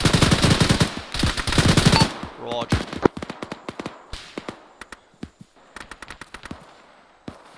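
Machine guns rattle in a military video game: dense rapid bursts at first, then sharper scattered single shots and short volleys, loud and close.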